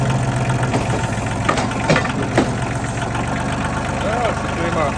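A Ford 1620 compact tractor idles close by with a steady low rumble while its bucket lifts a water heater out of a basement, broken by a few sharp clunks.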